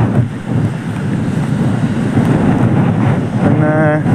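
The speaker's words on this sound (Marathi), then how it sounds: "मस्त धबधबा आहे बघा एकच नंबर." A waterfall in the hills near Sule village, Kolhapur, roars as a loud, steady close rush mixed with wind buffeting, and a faint voice briefly rises near the end.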